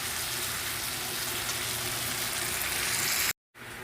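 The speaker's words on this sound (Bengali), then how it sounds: "তো আর একটু আমি কষাবো কষিয়ে জল দিয়ে দেবো" Curry masala with slit green chillies sautés in a pan, giving a loud, dense and continuous sizzle close up that cuts off abruptly near the end before resuming.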